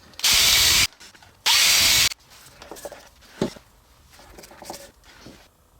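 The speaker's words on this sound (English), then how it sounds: "we're going to drill a little bit of a pilot hole here in our handles" Power drill boring a pilot hole into the wooden handle of a drink caddy, two loud short whirring bursts with a pause between, followed by quieter handling clicks and shuffles.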